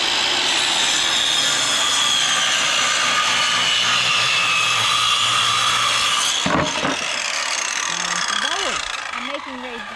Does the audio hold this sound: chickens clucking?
no